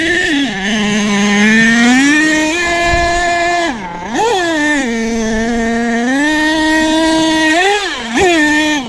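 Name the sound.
RC car engine driving on track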